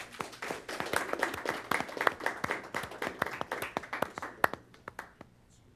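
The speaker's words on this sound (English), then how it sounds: "Can we give her a round of applause?" Applause at a city council meeting, a moderate round of clapping from the room with distinct individual claps, steady for several seconds and then tapering off to quiet.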